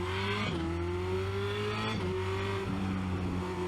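Formula Renault 2.0 race car engine sounds from on board at Spa-Francorchamps, a close, steady whine that rises through the gears with quick shift dips, with no speech.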